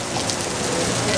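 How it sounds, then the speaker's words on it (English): A sudden heavy downpour in Medellín, Colombia, drumming steadily on a roof overhead, a dense, loud, continuous hiss of rain. "Massive rain out of nowhere. We're stuck under a roof."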